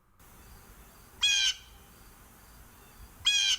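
Two harsh, raspy blue jay calls ring out about two seconds apart over a quiet outdoor background.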